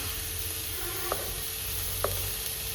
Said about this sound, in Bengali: এই যে এখানে চিকেন ভাজা হচ্ছে